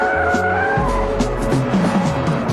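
A rear-drive BMW E39 M5 with stability control switched off drifts, its tires squealing in shifting wails over a loud, rising and falling engine note, close and continuous.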